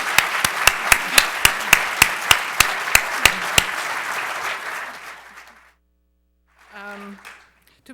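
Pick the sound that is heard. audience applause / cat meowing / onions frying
audience applause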